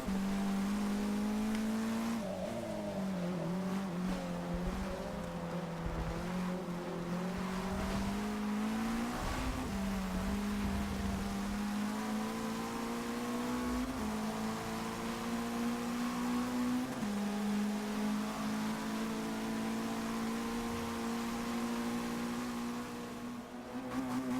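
Race cars revving and accelerating at the start of a race in the video game Forza 6, a loud continuous engine drone climbing and shifting pitch through gear changes, with several cars layered close together.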